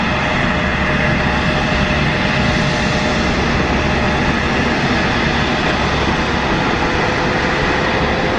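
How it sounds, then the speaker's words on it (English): Airliner jet engines spooling up at Düsseldorf Airport, a loud, steady roar with a constant whine over deep rumble, unbroken and close. "Hopefully we're going to get some engine start up."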